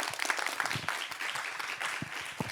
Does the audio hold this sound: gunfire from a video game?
no